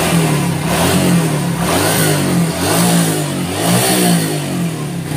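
A Honda Astrea Grand motorcycle engine fitted with a Shogun CDI revs hard and continuously, a loud, close, rough roar that rises and falls in repeated throttle blips with no talk.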